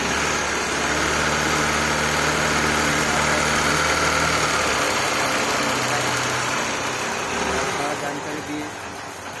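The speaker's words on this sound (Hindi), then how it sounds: "बाइक स्टार्ट हो चुका है एक किक में" A Honda Shine SP BS4 125 motorcycle engine idles steadily up close after a kick start, a continuous buzzing drone that fades slightly near the end, with speech mixed in beneath it.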